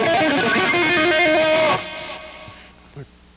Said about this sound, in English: What he does is he pulls off to open strings.